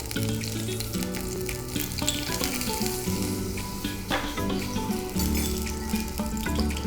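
Garlic, ginger and curry leaves sizzle steadily in hot oil for a Sri Lankan fish curry, a close, continuous crackling fry with no voices.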